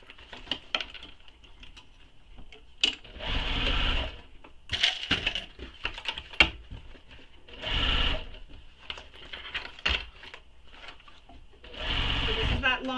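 A sewing machine basting the long bottom edge of a crossbody bag gusset runs in several short, close bursts of rapid stitching, with pauses and handling clicks between runs while a person talks over it.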